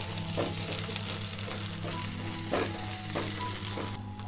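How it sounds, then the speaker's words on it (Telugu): Masala paste frying in oil for an egg curry, an even close sizzle broken by several soft stirring scrapes, with no talking. "ఇప్పుడు ఆయిల్ రిలీజ్ చేసే వరకు మనం ఇది వేయించుకోవాలి"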